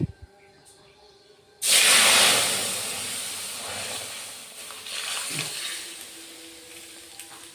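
After a moment of quiet, lentils hit hot oil in a kadai with a sudden loud sizzling hiss that slowly settles into a softer crackle.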